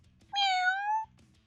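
A cat's meow in the Variable Barricade video game: a single clear, drawn-out meow lasting under a second, loud and close, with quiet background sound before and after.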